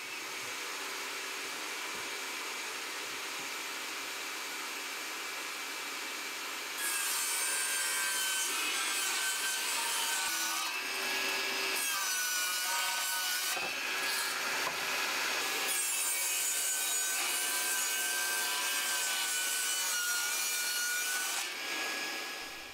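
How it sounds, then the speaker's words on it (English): A table saw rips strips of 18mm plywood in a workshop: the motor hums steadily, then a loud, close, rough cutting roar as the blade runs through the sheet, with a short dip mid-cut, continuing to the end. "I can rip some strips down using the table saw"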